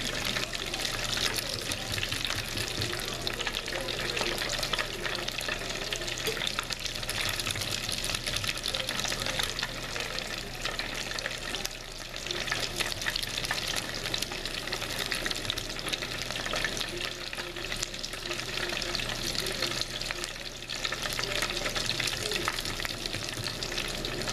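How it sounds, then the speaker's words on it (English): Battered shrimp fry in a pan of hot oil with a steady, dense sizzle and crackle that holds at close range without a break, while occasional stirring and flipping sounds come through underneath. "Flipping the shrimp over to make sure it's getting on both sides or getting brown."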